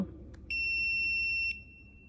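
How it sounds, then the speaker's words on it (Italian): BlueBird PS 22 electric pruning shears give one clear, tonal electronic beep lasting about a second, loud and close, with a faint click just before it and quiet background otherwise. "premiamo contemporaneamente grilletto e interruttore per, eh, fino al terzo bip."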